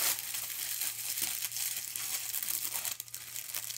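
Wrapping paper crinkles and rustles up close as a gift is unwrapped, a continuous papery crackle with a few sharper tearing crunches.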